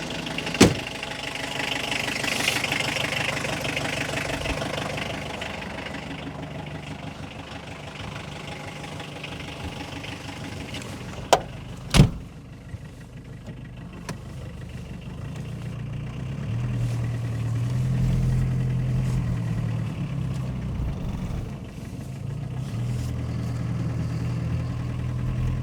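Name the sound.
car engines idling while the cars are moved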